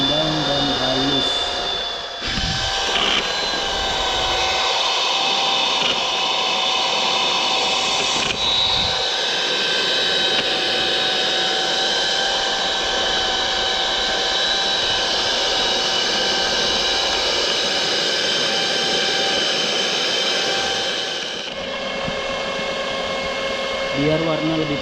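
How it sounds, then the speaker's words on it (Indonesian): An electric mixer beats batter until it turns fluffy and smooth, giving a close, loud, continuous motor whine with steady tones that lasts the whole time. The pitch shifts briefly near the start and again at the end. "Mixer adonan tersebut sampai mengembang dan halus."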